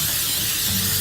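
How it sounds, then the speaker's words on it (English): Cooking spray hisses from a can onto a muffin tin held over a kitchen sink, one steady, close, airy burst lasting about a second. "we have to spray the muffin tin over the sink"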